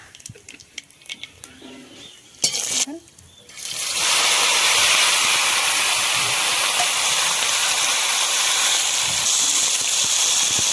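Nigella seeds hit hot mustard oil and burst into a loud, steady sizzle that holds for several seconds, after a few quieter knocks and clatters beforehand.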